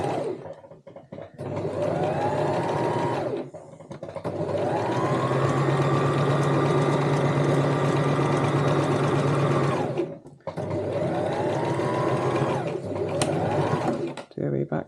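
A domestic sewing machine runs in long steady whirring stretches while stitching fabric for a cosmetic bag, stopping briefly between seams, with someone talking over it.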